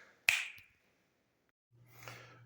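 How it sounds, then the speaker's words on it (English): A single sharp finger snap rings out close and crisp, followed by silence and then a low, steady hum with faint noise. "You're going to see it like magic when I snap my fingers"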